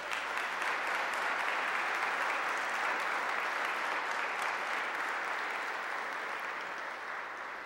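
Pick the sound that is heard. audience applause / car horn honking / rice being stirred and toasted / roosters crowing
audience applause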